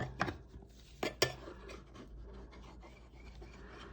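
A knife trimming the pastry edges of a quiche Lorraine in its dish, a few sharp scraping cuts early on, then soft faint rasping and rubbing that continues quietly.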